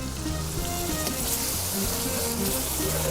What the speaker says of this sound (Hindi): अब मैं इसमें थोड़ा पानी डालूंगी, थोड़ी ग्रेवी के साथ बना रही हूँ इसको।